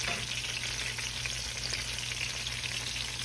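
Hand pies fry in hot grease in a skillet, giving a steady, dense sizzle and crackle that holds at an even level throughout with a faint low hum underneath; no one speaks.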